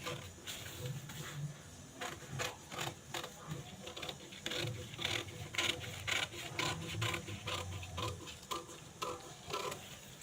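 Scissors cutting through blouse sleeve fabric, producing a run of quick, fairly quiet snips and rasping scrapes in an uneven rhythm, close by.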